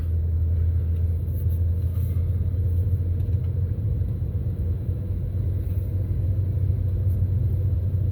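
A truck engine idles and rumbles steadily as a towed camper pulls away from a campground at White Tank Mountain, a continuous low drone heard close with no talking.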